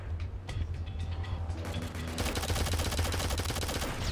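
A deployed sentry gun in the shooter game Shadowgun Legends rattles off rapid automatic fire, sustained and close, over steady low game rumble, growing denser partway through.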